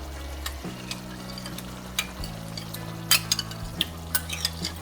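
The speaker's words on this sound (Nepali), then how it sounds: "अब दही राखेपछि चाहिँ यसलाई चलाइरहनुपर्छ" Yogurt stirred into a Nepali chicken curry with coconut milk in a pot: a spoon scrapes and taps softly against the pan in an irregular rhythm over a low, steady background hum.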